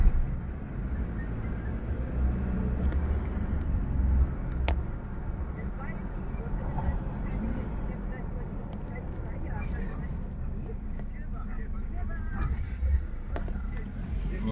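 A Ford Ranger T7 with an erratic gear-shifting fault drives along with a low rumbling engine and road noise, and someone talks throughout.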